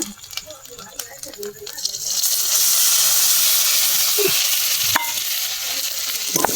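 Loitta fish dropped into spice paste frying in a pan on a gas stove, a loud sizzle rising after a couple of seconds and holding steady, with some stirring clatter.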